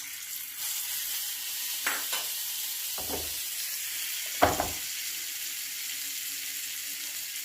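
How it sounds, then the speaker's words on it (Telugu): A hot tempering of turmeric and asafoetida meets curd with a steady soft sizzle and hiss, broken by two or three brief bursts of frying, close and moderately loud with no talk. "ఇప్పుడు ఈ తాలింపుని పెరుగులో కలిపేసుకుందాం"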